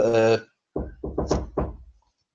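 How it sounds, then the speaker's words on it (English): Knocking at a home's front door comes in a quick run of about five raps, close and fairly loud, just after a brief voice. "Someone's now at my fucking door."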